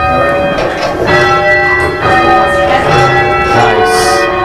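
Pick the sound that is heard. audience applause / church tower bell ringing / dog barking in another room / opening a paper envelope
church tower bell ringing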